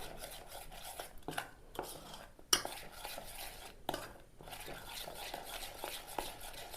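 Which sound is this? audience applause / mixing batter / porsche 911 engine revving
mixing batter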